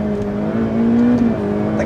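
A Ferrari F8 Tributo with a particulate filter revs, producing a steady engine drone that rises in pitch briefly, then settles. It is loud and close, with no talk.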